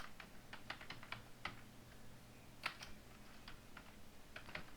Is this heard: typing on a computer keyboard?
yes